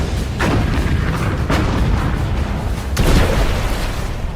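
Heavy naval gunfire from British warships firing on the German battleship Bismarck, with several deep booming blasts and rumbling that roll in one after another, loud and continuous, with no voices.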